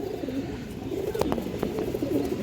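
Several flying pigeons, including hens, cooing in a loft: soft, low, rolling coos repeat steadily and fairly close, with no talking over them.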